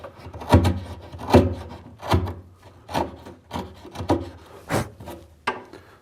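A chisel scrapes and pares inside a mortise in plywood, about eight rhythmic rasping strokes close up, each a short woody scrape.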